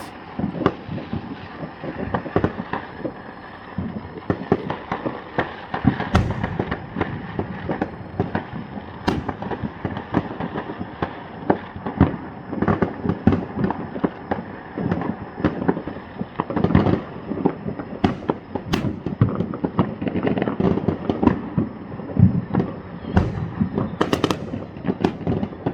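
New Year's midnight fireworks in Kona, Hawaii, a long relentless barrage of cracks, pops and distant booms overlapping without pause, some sharp bursts standing out against a constant crackling wash, with no voices.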